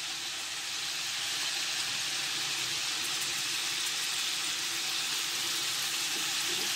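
Melted butter sizzling in a pot while cooking lamb tajine, a steady, even hiss that holds close and fairly soft throughout, with no voices.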